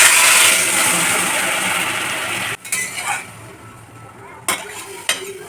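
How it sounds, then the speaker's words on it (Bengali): Prawns coated in mustard spice paste hit hot mustard oil with black cumin in a pan, giving a loud, dense sizzle that drops off sharply halfway, followed by quieter frying and a few utensil clinks. "ওর মধ্যে এই মাখানো মশলা সমেত চিংড়ি মাছ দিয়ে দেব"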